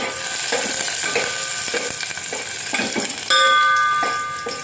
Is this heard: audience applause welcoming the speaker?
no